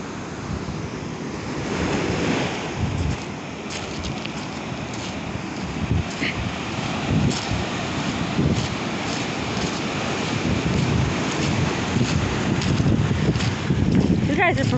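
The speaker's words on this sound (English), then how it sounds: "these are like some Hawaiian waves" Ocean surf rolls in steadily at North Beach, Port Townsend, on a day of tsunami activity, a continuous wash of breaking waves with wind buffeting the microphone and voices talking faintly underneath.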